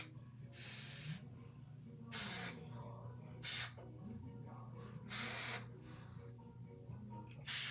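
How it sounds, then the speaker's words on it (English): Short bursts of Got2b glue aerosol sprayed onto the edges of a lace wig: four separate hissing sprays of about half a second each, close and loud, with quieter handling noise and a low hum between them. "I'm gonna spray my got to be glue around my edges"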